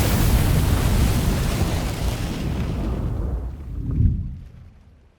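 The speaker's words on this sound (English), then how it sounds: "we are in the middle of a storm here." Thunder from a storm rumbles outside in a long, loud roll that slowly fades, then swells into one more deep rumble before dying away, with no talk over it.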